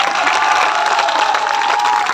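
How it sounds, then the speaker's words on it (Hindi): A large crowd at a political gathering in Dausa, India, breaks into sustained, dense clapping and applause with some cheering, loud and continuous throughout. "ताली बजाओ।"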